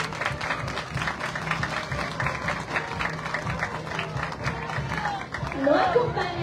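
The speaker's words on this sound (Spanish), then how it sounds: "Un fuerte aplauso, por favor." Audience applause at a Day of the Dead parade ceremony in Tepeaca, steady broadband clapping from a crowd filling the whole stretch, with a public-address voice and crowd chatter mixed in.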